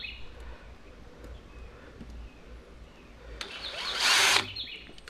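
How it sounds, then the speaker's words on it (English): A power drill whirs in one short, loud burst near the end, pre-drilling holes during an interior kit install, after quiet background with faint chirps and light tapping. "I'm actually gonna pre-drill these."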